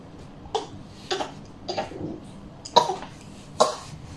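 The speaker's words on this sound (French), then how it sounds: "Tu tousses?" A child coughs five times in short, separate bursts spaced about half a second apart, close to the listener with quiet background between.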